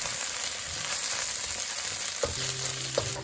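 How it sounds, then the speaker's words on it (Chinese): Minced garlic stir-fried in a hot pan before clams and basil go in, a steady bright sizzle with a couple of spatula clacks and a brief ringing tone near the end. "加入切好的蒜末，持续翻炒到香气出现"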